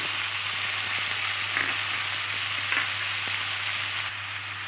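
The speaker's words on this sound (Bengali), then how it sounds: "এবার খুব ভালোভাবে নেড়ে চেড়ে আমি এভাবেই সবজিটাকে একটু ভেজে নেব।" Chopped onion and ridge gourd fry in a pan with a loud, even hiss of oil and a few soft stirring scrapes, steady throughout without speech.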